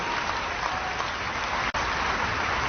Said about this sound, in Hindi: आपकी हाथ की करतल ध्वनि ने इस पूरे वातावरण को स्पंदित कर दिया